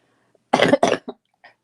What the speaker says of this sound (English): this cough is just driving me crazy